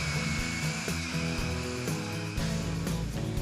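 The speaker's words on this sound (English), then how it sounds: "while applying down pressure on the drill, move the carriage back and forth through its stroke" A drill cuts a mortise in a JessEm Zip Slot mortise mill with a steady, loud motor whine. Rhythmic changes in tone follow the carriage as it moves back and forth through the wood.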